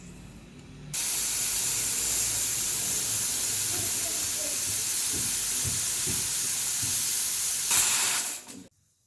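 A pressure cooker of cooked rice releases its steam in a loud, continuous close hiss that starts abruptly and lasts about eight seconds before cutting off.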